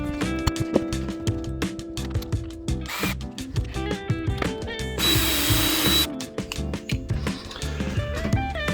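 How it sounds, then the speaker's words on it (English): A power drill cutting a large hole through a van floor whirs in short bursts, stopping and starting with clicks and rattles, including a sustained loud grinding stretch midway. "drill or cut a very large hole through the floor of the van"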